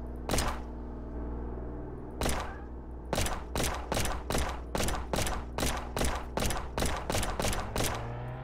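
Police gunfire in Firefighter Simulator: a single loud shot, then a rapid string of about a dozen close gunshots fired in an even rhythm over a low rumble.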